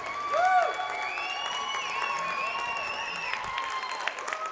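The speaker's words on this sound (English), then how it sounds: "the White Bear Lake faithful applauding that penalty kill" A crowd at a high school hockey game applauds a penalty kill, steady clapping filling the arena at moderate distance with a brief louder swell at the start and tonal whistles or horn-like sounds layered over it.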